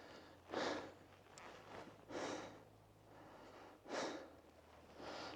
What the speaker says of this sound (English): Never mind my panting, just pretend I'm a dog.